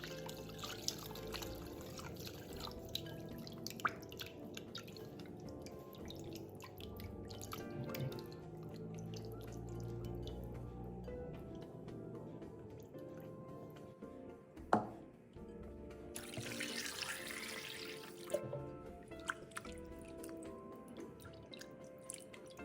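Water drips and trickles off freshly rinsed pork ribs set aside to drain in a kitchen, quiet and close, with a steady light patter and a brief splashy burst near the end.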